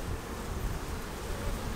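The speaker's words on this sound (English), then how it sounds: "So we shook that frame of bees down into there" Honey bees buzz around a hive frame just shaken into a box, forming a dense, steady swarm hum that fills the moment without pause.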